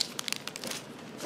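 Transfer mask peeled slowly back on itself from a Jeep vinyl graphic, a quick run of faint crinkling and crackling close up, with no voices.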